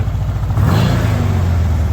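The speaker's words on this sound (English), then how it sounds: "it's revving up even quicker now." VW rail buggy engine revving up close, a steady loud rumble that swells and climbs in pitch over about two seconds.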